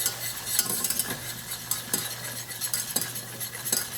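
A whisk stirs a couple of added tablespoons of ingredient into a bowl of mixture with about a quarter cup of oil, producing steady scraping and clinking strokes in a quick rhythm, close and moderately loud, with no talking.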